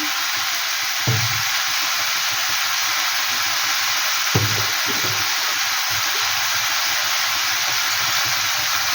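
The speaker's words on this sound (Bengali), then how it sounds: "বাটাটা দিয়েছি, নেড়ে করে নিচ্ছি।" Ginger paste sizzles steadily while frying in a pan, with a few scraping stirs of a spoon cutting through the constant hiss.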